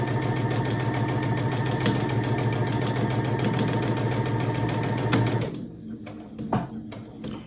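A sewing machine backstitches a seam on fabric bunting, a loud steady rapid whir of stitching that runs continuously for several seconds and then stops, followed by a few quiet handling sounds.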